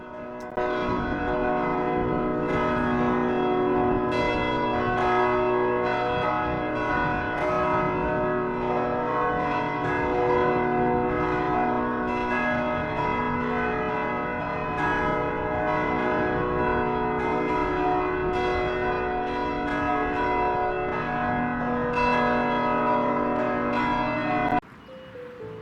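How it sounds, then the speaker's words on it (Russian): Church bells of Our Lady of Mount Carmel parish church in Malta pealing continuously, a loud, dense, ringing cascade of overlapping strikes that carries on for over twenty seconds before stopping abruptly. "предлагаю послушать перезвон, изгоняющий из организма все нечистое, в исполнении приходской церкви Богоматери на горе Кармель"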